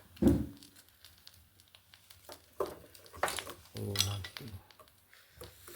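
A milk pot is set down with a clunk among clattering dishes, followed by a few more scattered clinks and knocks.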